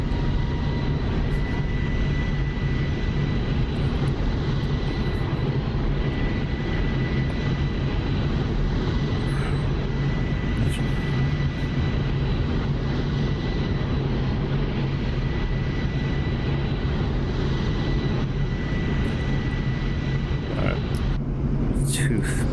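Steady, loud jet engine roar from an F-22 fighter in the DCS flight simulator, a continuous broadband rumble with a few brief clicks and a short hiss near the end.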